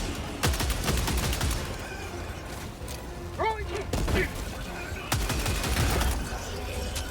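BR-14 Adjudicator rifle in Helldivers 2 firing in rapid bursts of sharp, loud shots, with mechanical clatter and distant battle noise between volleys; speech is faintly mixed in.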